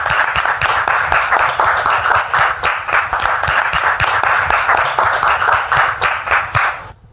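An audience claps to welcome a guest, Brother Joseph, at a French-speaking church gathering: loud, close rhythmic clapping from a crowd, sustained and fairly even before trailing off abruptly at the end.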